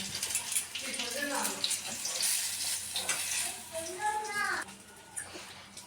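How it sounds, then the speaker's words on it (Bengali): Stuffed flat beans sizzle and crackle in a hot pan under steady frying noise, with someone talking over it and occasional clinks of a utensil. "এইভাবে সবগুলো ভরাকে আমি ভেজে নেব"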